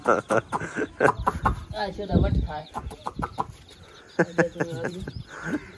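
Chickens cluck and cackle in quick bursts close by, with higher chirps from chicks mixed in, while a person talks over the birds.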